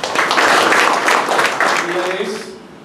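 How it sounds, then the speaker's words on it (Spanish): Audience applause at a Peruvian pisco event, a dense wash of clapping that holds steady for nearly three seconds before thinning out, with some voices mixed in toward the end. "un aplauso por ustedes"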